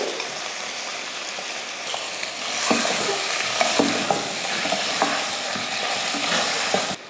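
Chicken sizzles steadily in a hot pan while a utensil scrapes and stirs it, with occasional sharp clinks against the metal.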